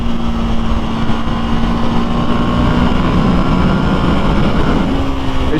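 KTM Duke 890 R motorcycle engine pulling hard under acceleration, a loud continuous drone with a rising tone heard from the rider's position, mixed with wind buffeting, no talk.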